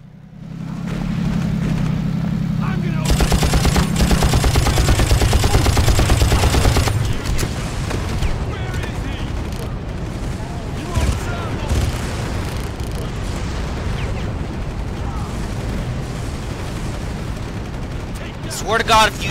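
Loud rocket launcher blasts and sustained gunfire from the video game Far Cry, a dense burst of explosive booms and rapid shots early on, then continued rumbling combat noise with voices underneath.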